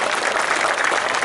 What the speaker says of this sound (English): can we have a big round of applause for the 9 breeds of sheep that we have here on the Sheep Show